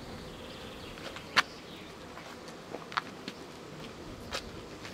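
Honey bees flying around a hive at a village museum apiary, a faint steady hum with a few louder passes of single bees close by, no voices.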